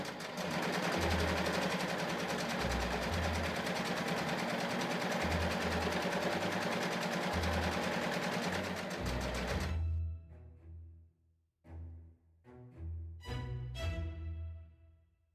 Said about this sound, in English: On my machine, if I set the tension high and the stitch length long, I can let my machine do the ruffling for me.